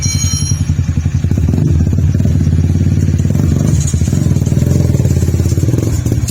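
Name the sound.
custom motorcycle pulling away in first gear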